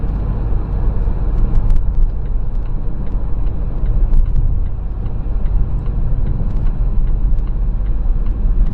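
2019 Volvo XC40 T5 with all-wheel drive under full throttle, a steady, loud cabin roar of engine and road noise that holds at an even level throughout, with no distinct shift breaks.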